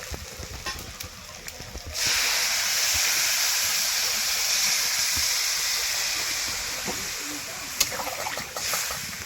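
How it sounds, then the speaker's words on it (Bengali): Water poured into a pot of village-style desi chicken curry (jhul) with meat and potatoes, a broad steady rush of sizzling and bubbling that starts abruptly and runs loud and continuous to the end, with a few brief clatters. "এখন আমি পরিমাণ মতো জল দিয়ে দেবো"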